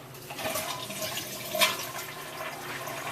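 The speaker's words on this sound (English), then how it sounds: "you can flush the toilets" A toilet flushes in a cottage on Langhorn Island in Georgian Bay, giving about three seconds of steady, close rushing water with a brief louder surge midway and no talking.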